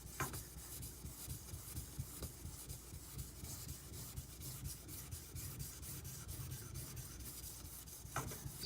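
A knife rubs back and forth across an Imanishi Latte 400 grit whetstone in steady, rhythmic gritty strokes, a soft close-up scraping that continues throughout without talk.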